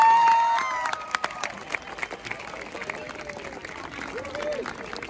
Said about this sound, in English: could you give them a bigger applause for the 2 years of COVID applause they couldn't get?